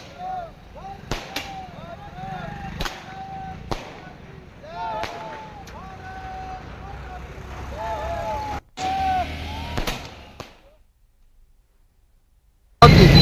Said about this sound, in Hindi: खुशी जाहिर करते हुए पटाखे फोड़ते हुए